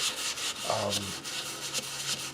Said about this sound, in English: wrap the sandpaper around them and work this edge, or work the point right into this edge